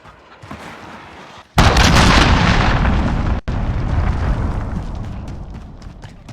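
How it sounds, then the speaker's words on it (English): Cruise missile strike explosions in Call of Duty Modern Warfare: a low rumble gives way to a sudden loud blast, a sustained roaring boom, a brief cut, then more heavy rumbling detonation that slowly tapers. "Enemy cruise missile incoming."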